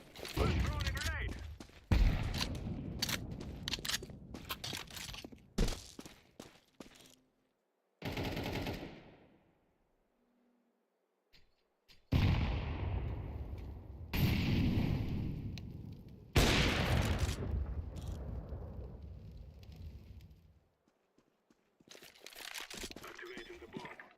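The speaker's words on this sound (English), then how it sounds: "I'm throwing a grenade." Video game combat with bursts of rapid gunfire and a grenade blast, loud and close, separated by short silent gaps and ending in more shooting.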